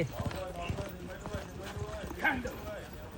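Horse hooves clop in a quick irregular rhythm during riding practice, close and moderately loud, with people talking over them.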